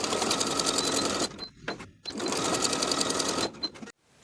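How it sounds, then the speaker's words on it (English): A sewing machine stitches the shoulder seams of a tee at 3/8 inch, running in two loud, steady bursts of rapid mechanical clatter separated by a short pause. "Sew the shoulder seams at 3/8 of an inch and then press the seams open."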